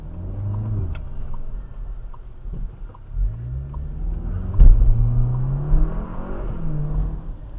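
A red passenger car waits at a red traffic light as engines idle and hum, with a vehicle slowly pulling away and a brief rise in engine noise midway, steady road ambience throughout.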